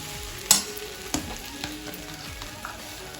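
Spices with turmeric frying in a pan, a continuous soft sizzle with a few sharp clinks and scrapes of stirring, close and fairly quiet.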